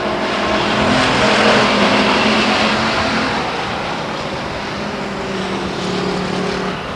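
Race cars roar around Stockton 99 Speedway during qualifying heats in 2001. A dense, continuous engine drone swells slightly and then eases as the pack circles the track, with no voices heard.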